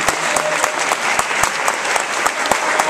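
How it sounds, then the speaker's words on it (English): Loud, lively applause fills a room at an award presentation as a crowd claps continuously, with individual sharp claps standing out in a fast, uneven rhythm. "I'd like to give them a round of applause."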